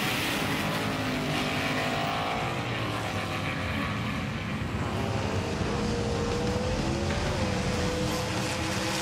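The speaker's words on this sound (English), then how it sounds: "Mappelli on the inside in that yellow Lamborghini." Racing cars, among them a yellow Lamborghini, roar past in a road-racing battle, their engines a loud continuous drone with rising and falling whine as they accelerate through the run, with no voices over it.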